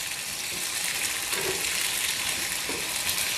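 Ivy gourd (kovakkai) sautéing in a pan gives a constant close hiss of frying with a couple of soft stirring touches.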